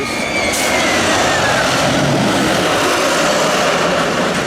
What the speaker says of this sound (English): This roller coaster is quite loud